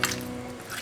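A hand rubbing salt into raw chicken pieces makes a soft, wet squishing sound, close and low in level, brief and continuous with no speech.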